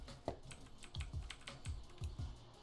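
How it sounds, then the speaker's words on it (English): Someone types on a computer keyboard while playing Fortnite, making a quiet, irregular series of soft clicks and taps with no talk over it. "You better be using that keyboard."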